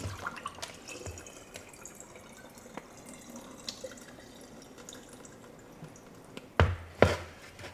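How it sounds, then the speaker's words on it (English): Cooked potatoes being drained for canning, water pouring and splashing into a sink in steady low trickles, with a couple of louder sloshes near the end. "Okay, so these potatoes are done. So I'm going to drain these."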